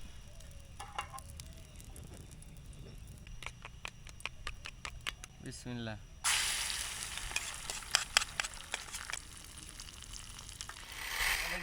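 Eggs fry in a pan at a riverside campsite, with scattered ticks and clinks at first, then a steady sizzle that swells loudly partway through, and a brief spoken word early on.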